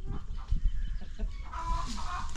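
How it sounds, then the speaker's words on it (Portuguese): Two old hens cluck near the microphone, with a scatter of short low clucks and throaty calls overlapping in an uneven rhythm and no talking. "É que aqui tem duas galinhas bem velhas já."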